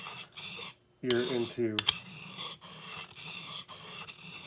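A tool is honed on a 45-year-old Norton sharpening stone in close, repeated rasping strokes with a light, even rhythm, and a voice briefly cuts in partway through.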